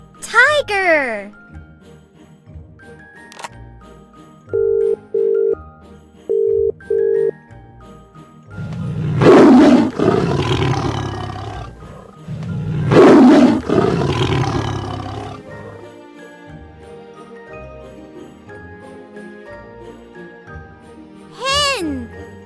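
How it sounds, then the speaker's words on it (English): Tiger roars from a children's animal sound toy, two loud deep roars alone in the middle, surrounded by electronic beeps and jingles. "Tiger."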